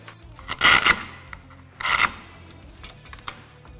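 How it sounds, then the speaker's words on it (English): A scribe cutting across a wooden door jamb gives two distinct bursts of close rasping scrape, the second shorter, separated by quiet handling noises. "To finish off the cut across here, I'm going to use our Scribe."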